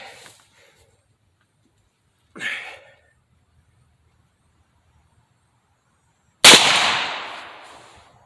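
Three separate shots are fired from .40 S&W, 10mm and .410 Brenneke slug loads: a sharp crack at the start, a quieter one a couple of seconds later, and a loud blast with ringing decay near the end, silence between.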